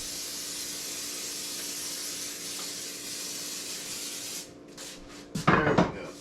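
Cooking spray hisses steadily into a casserole dish for several seconds, then stops, followed by a brief clatter of the can or dish being handled nearby.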